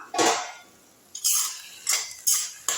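Carrot thokku is stirred in a cooking pan with a spoon, giving a scrape, then several quick metal scrapes and clinks against the pan in short bursts, close and fairly loud.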